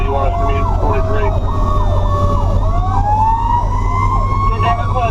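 Fire truck's Federal Q mechanical siren screaming loud and close from inside the cab, its wail winding up and down in repeated sweeps over a steady engine rumble.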